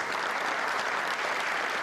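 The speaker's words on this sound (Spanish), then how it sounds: "ovación cerrada a don Juan Carlos cuando éste entra en el salón de columnas" A hall full of dignitaries gives a sustained ovation as King Juan Carlos enters the Hall of Columns, dense even applause throughout.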